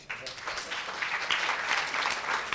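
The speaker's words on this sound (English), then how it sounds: "Guys, you should clap." A conference audience at a fireside chat and panel discussion claps, with dense, steady applause close by that swells slightly and carries on for the whole stretch.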